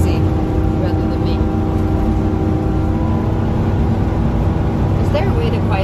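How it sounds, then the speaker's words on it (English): A vehicle engine straining while driving uphill, a loud, steady droning roar that fills the cabin without letting up. "So usually when we're going uphill, it's noisier like that."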